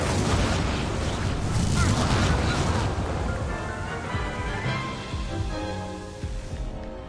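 A fire spell cast in the Hogwarts Legacy video game, a loud roaring whoosh and crackling burst of flame that surges at first, then slowly fades, with faint game sounds underneath.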